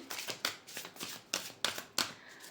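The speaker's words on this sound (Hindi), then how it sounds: "और एक डेक से भी कार्ड्स निकाल लेते हैं।" Tarot cards are drawn and shuffled from a deck, a close series of crisp riffling flicks in a fairly regular rhythm, about eight bursts, soft overall.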